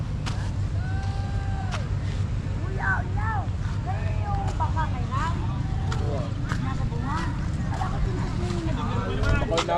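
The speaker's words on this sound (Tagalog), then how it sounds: "Yan, may isa pang bangka. Dumating na." A fishing boat arriving at shore gives off a low, steady motor drone beneath nearby people talking, with wind in the background.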